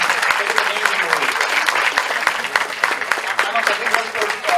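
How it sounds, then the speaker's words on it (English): Dense audience applause for the filmmakers of The Vaccine War rolls on steadily for several seconds, many hands clapping together with a faint murmur of the crowd underneath. "Can we do a huge round of applause for Vivekji and Pallavi-ji for the amazing movie?"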